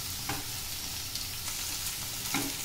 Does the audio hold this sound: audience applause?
no